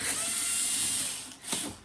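A power screwdriver whirs while Torx T10 screws are removed from a Jura ENA8 coffee machine, one sustained buzzing run followed by a brief second burst.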